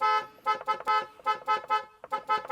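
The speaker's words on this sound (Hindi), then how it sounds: "हॉर्न सुनाता हूँ मैं आपको।" The horn of a 22-year-old Indian car sounds in a series of short, honking toots, about eight quick blasts in an uneven rhythm with brief gaps, loud and close with nothing else beneath.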